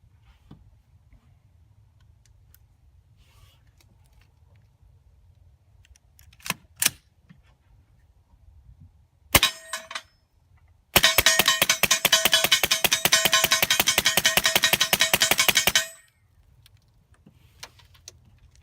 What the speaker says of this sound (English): I'm going to try to put a mag dump down range.